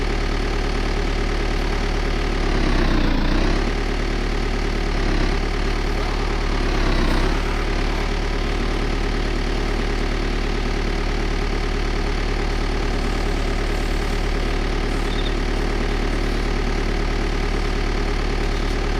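A vehicle engine in the DayZ Breaking Point game runs steadily for the whole stretch, a loud low rumble with a couple of brief surges early on and no talking over it.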